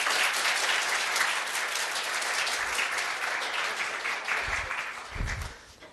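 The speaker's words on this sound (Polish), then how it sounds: "a teraz przywitajmy go gorącymi brawami" A room full of people at a tech conference talk claps loudly and continuously to welcome a speaker, the applause thinning out toward the end.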